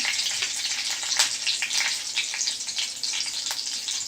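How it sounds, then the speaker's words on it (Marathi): Curry leaves and cumin seeds frying in hot oil for a potato dish give a steady, close hiss of bright sizzling, with small spits and pops scattered through it and no voices. "तेल चांगलं तापवा त्यात कढीपत्ता थोडं जिरं"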